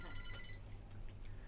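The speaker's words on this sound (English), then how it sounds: "And the phone is ringing." A telephone rings with a repeated bright electronic trill, faint and fairly distant, heard in a quiet room at a stage slam poetry event.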